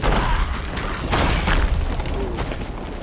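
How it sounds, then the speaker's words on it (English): Muffled, rumbling booms from explosions in the pirate video game Sea of Thieves, several deep thuds in quick succession over a continuous low roar, with no voices. "Lots of explosions."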